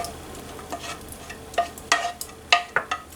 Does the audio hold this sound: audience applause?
no